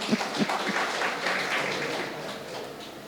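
Audience applause welcoming radio jockey Farhan at an evening peace event, a dense wash of many hands clapping steadily for about three seconds with a few louder claps near the start.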